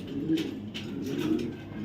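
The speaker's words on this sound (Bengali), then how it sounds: "এটা বিআরপিএফসি ক্লাবের একটা রেসার নর কবুতর" A male racing pigeon of the BRPFC club coos softly and close by, a few low repeated throaty calls in quiet surroundings.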